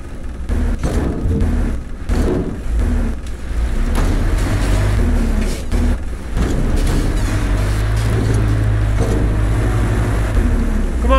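A car engine revs and strains while stuck in the video game Metro Exodus, a loud, continuous low rumble with surges and grinding texture and no speech over it.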